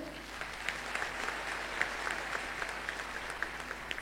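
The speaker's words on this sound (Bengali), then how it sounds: "সবাই একটু হাততালি দেবে।" A seated audience at a talk gives a faint, fairly distant round of applause, with light scattered clapping that holds steady for a few seconds over a quiet room.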